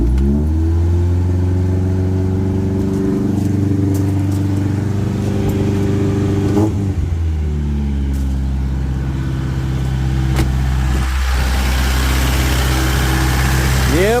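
A 1972 Toyota Corolla TE28 wagon engine settles into a fast high idle with a steady, loud, close droning hum and a slight shift in pitch midway. A voice speaks faintly underneath.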